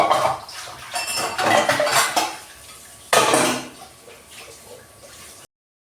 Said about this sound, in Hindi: तो चलिए जल्दी से मैं निपटा लेती हूँ बर्तन वगैरह।